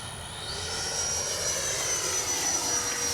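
Freewing 80mm T-33 Shooting Star RC jet flying past, its electric ducted fan giving a steady rushing whoosh with a thin high whine that swells slightly as it nears, moderately loud and alone.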